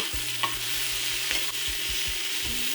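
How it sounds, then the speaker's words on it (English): Onions and peppers fry in a pan with a loud, continuous sizzle and a regular pulsing rhythm of stirring, close up with no talking. "Add the peppers. And cook until they are also softened."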